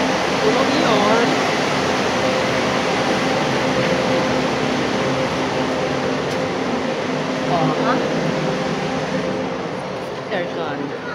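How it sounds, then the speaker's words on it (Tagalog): A steady, droning hum of air conditioning fills the cabin of a passenger barge, constant and fairly loud, with faint voices and occasional light clatter mixed in. "Aircon."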